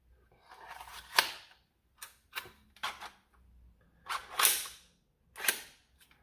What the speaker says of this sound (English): Let me see if I can load a dart and actually fire it.